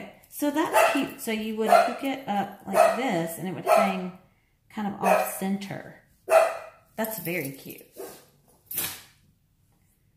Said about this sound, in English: Sorry about my dogs, y'all.